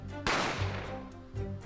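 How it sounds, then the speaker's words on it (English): A single sharp gunshot cracks in the Great Ace Attorney video game and is followed by a short decaying rumble over low background music. "A gunshot rang in my ears."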